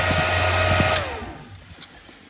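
Heater blower fan in a Fiat 126p runs with a steady whirring hum and tonal whine that drops off partway through, leaving a quieter hiss and a brief click near the end.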